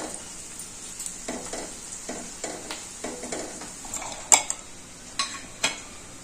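Turmeric mixture sizzling and frying in a pan while being stirred, with a steady hiss and repeated scraping strokes of a spoon, plus a few sharp clinks of utensil against the pan, close up with no talking.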